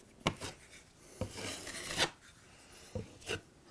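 A drywall knife spreads texture compound across a wall, working from the edges toward a sanded patch; a few separate rasping scrapes come close by and fairly quietly, with short pauses between the strokes.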